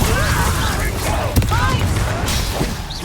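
A burst of fire spell casting in the Hogwarts Legacy game, with a sharp whoosh and thump around the middle over continuous battle noise and music, with voices shouting.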